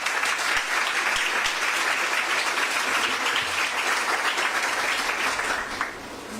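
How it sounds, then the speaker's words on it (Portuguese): Steady applause from an audience at a women's gathering, dense and even throughout before easing slightly at the very end, with no voices standing out. "recebendo os nossos aplausos"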